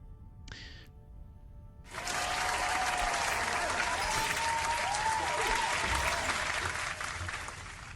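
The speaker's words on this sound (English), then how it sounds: "That is some applause for Homeless Mango." Applause sound effect alert on a livestream of the digital Dune Imperium board game: a sudden burst of dense, loud clapping and cheering that starts after a short quiet lead-in and holds steady for several seconds.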